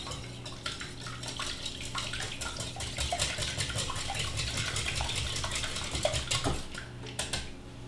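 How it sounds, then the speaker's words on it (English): Three large eggs whisked and broken apart in a bowl, a steady close clatter and scrape of utensil against the dish with a faint watery background, no talk. "I'm just going to break those apart and whisk them a little bit."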